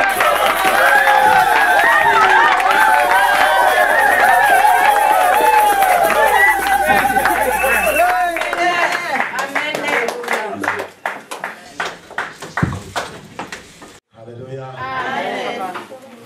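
A church congregation claps and acclaims loudly together, dense applause mixed with cheering and shouted voices that then breaks into scattered claps and chatter, with a preacher's voice over it.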